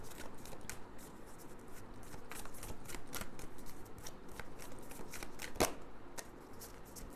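Tarot cards being shuffled and drawn up close, a soft run of riffling and flicking clicks with one sharper snap partway through, quiet with no talking.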